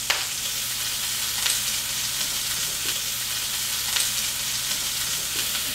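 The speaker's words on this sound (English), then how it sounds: "we're going to add to this our shallots, and that's going to cook in that bacon fat as well" Shallots frying in bacon fat in a pan, a constant bright sizzle with occasional soft stirring clicks, steady and close with no talking.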